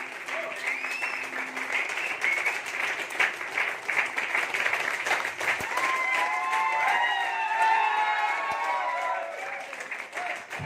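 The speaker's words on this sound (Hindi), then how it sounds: "एक जोरदार शानदार ताली" Audience applause at a business-plan presentation, a dense sustained wash of clapping lasting around ten seconds, with a few crowd voices and faint cheering rising over it toward the end.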